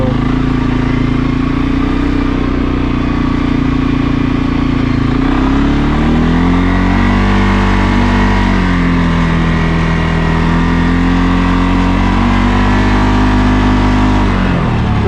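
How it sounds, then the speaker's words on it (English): A 2023 CFMOTO CForce 600 ATV engine held at wide open throttle, a loud, close, continuous droning roar whose pitch dips and rises with load while riding. "the throttle's wide open right there"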